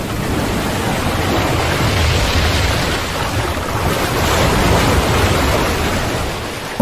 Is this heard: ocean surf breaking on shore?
yes